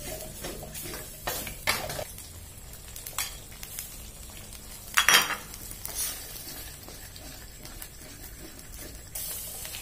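Coconut cream and green curry paste stir-fry in oil for a Thai green curry with fish balls, giving a close, continuous sizzle with occasional scrapes and clinks of a utensil against the pan.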